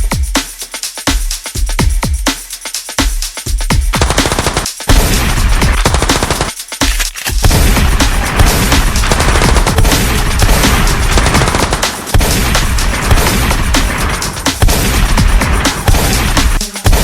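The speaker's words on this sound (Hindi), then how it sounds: "आगे दुश्मन की इलाका है, जरा संभाल के। अरे दुश्मन को पता चल गया है," Dense, continuous gunfire sound effect, return fire in a comedy war skit, with rapid bursts that start choppy and then become a loud, unbroken roar of shots lasting throughout.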